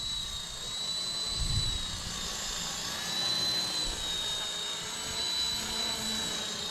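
A radio-controlled model helicopter lifting off and flying nearby, a steady high-pitched motor whine with constant rotor buzz that rises and eases slightly as it moves, no talk.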